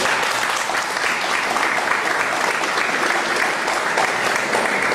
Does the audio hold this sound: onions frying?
no